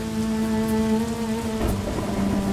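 Rain pours steadily over a farmer's field in an animated story, a constant wash of drops with a sustained tone running beneath it and a brief burst near the end.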